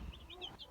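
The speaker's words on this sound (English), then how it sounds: "These are our other meat chickens right in here" Young meat chickens under heat lamps in a brooder give a few soft, high cheeps and clucks in quick succession, close and fairly quiet.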